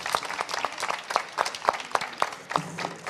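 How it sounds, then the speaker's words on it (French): A conference audience at an organic farming event applauds warmly as a guest representing an Île-de-France organic farmers' group joins the stage: steady rhythmic clapping with distinct individual claps, moderately close, lasting throughout. "sous vos applaudissements là encore une fois nourris et chaleureux"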